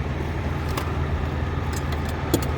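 A 2022 Peterbilt truck engine idling with brakes set, a steady low rumble throughout with a few faint metallic clicks and jingles on top.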